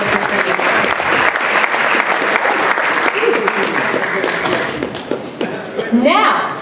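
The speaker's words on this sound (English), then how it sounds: "Please give her another round of applause." Guests at a synagogue journal dinner applaud loudly and steadily, the clapping thinning near the end as voices and a chuckle come through.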